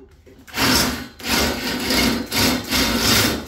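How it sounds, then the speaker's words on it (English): Harsh, grinding tool noise in several sustained bursts with brief pauses between, close and loud, like a drill biting into metal. "after drilling a hole, of course"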